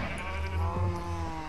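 Sheep in the Minecraft video game bleat in a short, wavering call, loud and close, with no talk over it.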